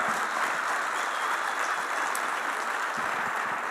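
Audience clapping at a talk, a dense, steady round of applause that holds at an even level for the whole stretch with no speech over it.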